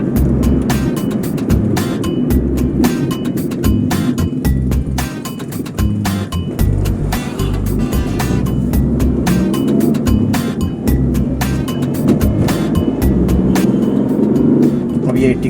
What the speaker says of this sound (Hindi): मैं ज़रा भी एक्सेलेटर में पैर दबा रहा हूँ तो गाड़ी 60 में भाग रहा है